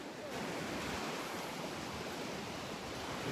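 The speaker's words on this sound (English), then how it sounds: "if you were to go out where those waves are breaking, you'd probably cry" Ocean waves breaking on the beach at Delnor-Wiggins make a steady, full surf roar with some wind buffeting the microphone, continuous and alone with no voices.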